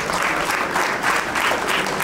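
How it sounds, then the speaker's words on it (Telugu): An indoor crowd at a job placement drive claps steadily and enthusiastically for the organizers, a dense continuous applause lasting about two seconds. "ఒకసారి వాళ్ళ కోసం గట్టిగా క్లాప్స్ కొట్టండి."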